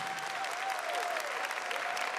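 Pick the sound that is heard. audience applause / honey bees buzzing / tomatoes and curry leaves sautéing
audience applause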